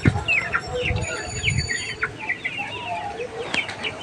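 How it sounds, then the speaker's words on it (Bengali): A big rooster and small free-roaming chickens cluck and call steadily from close by, with a few louder squawks and a brief flutter near the end, all outdoors in a village lane. "আর এই যে এই দিকটাতে বড় মোরগটা রয়েছে"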